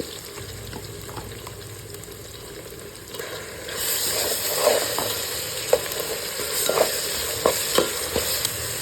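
Ginger and garlic sautéing with onions in oil for a chicken curry, a steady sizzle that grows louder partway through, broken by intermittent scraping stirs of a spoon against the pan.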